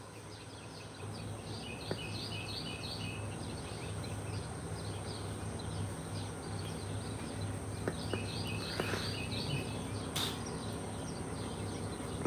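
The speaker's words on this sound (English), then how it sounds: "A lot of birds right there," A crowd of outdoor birds keeps up a continuous chorus of chirps and calls, mixed with buzzing insects, a few sharper calls standing out near the end, and no voices present.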